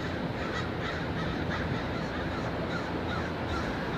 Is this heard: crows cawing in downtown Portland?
yes